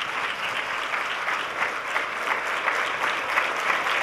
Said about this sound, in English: let us continue with a big round of applause because we love her